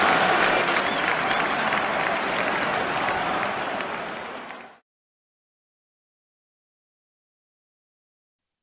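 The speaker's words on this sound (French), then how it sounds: "I have never seen an away crowd to a man give a standing ovation to the opposition's best player after a goal like that." An away football crowd claps in a standing ovation, loud and sustained mass applause that holds steady for several seconds and then cuts off abruptly into silence.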